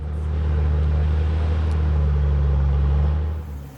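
A 4WD vehicle drives along a slippery, greasy track on a remote Cape York route, its engine a steady close rumble that holds for a few seconds before easing off at the end.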